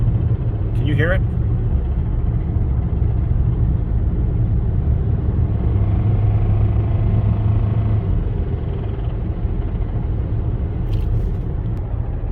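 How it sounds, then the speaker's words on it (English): A worn-out car engine with a shot motor runs steadily with a deep rumble and a suspected knock, loud and continuous, while people talk over it. "Can you hear it? There it goes. Whoa, yeah. This motor's shot."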